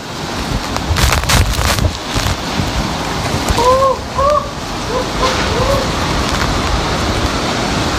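Strong wind roars steadily into the microphone, rising in heavy gusts from the eyewall of Hurricane Irma in Naples, Florida, with faint bird chirps and distant voices underneath.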